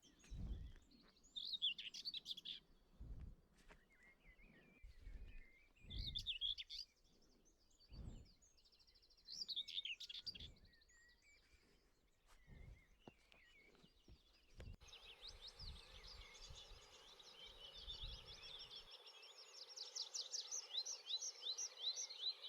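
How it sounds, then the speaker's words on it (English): A tree pipit sings in open country on Dartmoor, a run of bright, repeated chirping phrases with pauses, then a long rising, trilling song near the end, with no voices. "This chap is a tree pipit,"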